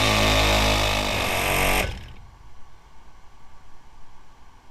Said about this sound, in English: all you have to do is turn on your compressor